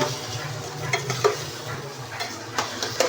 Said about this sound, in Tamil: லைட்டாக கொஞ்சம் வாசனைக்காக நல்லா வதக்குப்பா